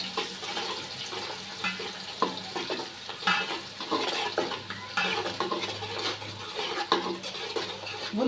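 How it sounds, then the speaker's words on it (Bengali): Onions fry in hot oil for biryani, a close, crackling sizzle with a spatula scraping and stirring the pan in short bursts, plus faint clinks of cookware and a brief run of water in the background. "আমি এই যে ওটা গরম হয়ে গেছে, আমি এখন পেঁয়াজগুলো দিয়ে দিব।"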